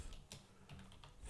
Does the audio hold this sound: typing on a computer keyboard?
yes